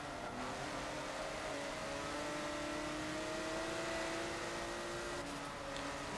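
A Porsche 911 GT1 Strassenversion in Forza Motorsport 7 accelerates hard, its engine note rising steadily through a sustained run under a dense whooshing roar.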